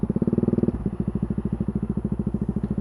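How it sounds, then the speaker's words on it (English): Yamaha XT660Z Tenere single-cylinder 660 motorcycle engine and exhaust, a loud close rhythmic thumping beat that briefly shifts pitch and then settles into a steady, slightly crackling idle-like pulse. "It's got a nice crackle to the exhaust."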